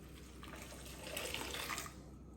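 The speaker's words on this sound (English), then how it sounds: "to that I'm going to mix 1 1/4 cups of boiling water." Boiling water poured onto a cup of oatmeal for honey wheat bread, a soft liquid stream that swells briefly and then tapers, faint and close with no speech.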